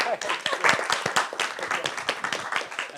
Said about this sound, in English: let's send a round of applause to the speakers.